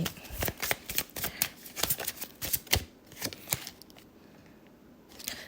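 Tarot cards are shuffled and dealt out during a Thai fortune-telling reading, giving a close run of quick papery riffles and soft slaps that thin out toward the end, with no talking.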